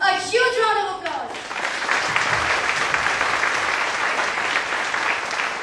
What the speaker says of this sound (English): Let's give our participants a huge round of applause.